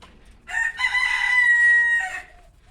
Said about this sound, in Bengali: আমাদের মোরগটা অনেক ডাকতেছে সকালবেলা